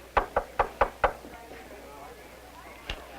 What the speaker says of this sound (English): Who'd be knocking at the door of the teacher's lounge?